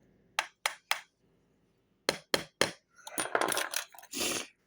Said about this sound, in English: Tiny hammer could save the day,